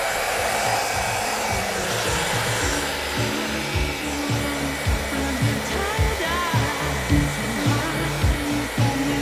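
A hair dryer blows over a handmade Christmas pumpkin craft, giving a loud, steady whirring roar. The roar shifts slightly and pulses as the dryer is moved around the piece.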